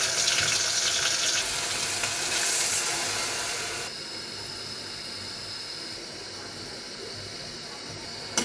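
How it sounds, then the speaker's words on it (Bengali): Running tap water pours steadily as broad beans are washed, loud and hissing at first and then dropping to a softer, even flow partway through, with no voices. "সিমগুলো ধুয়ে রাখছি এগুলো"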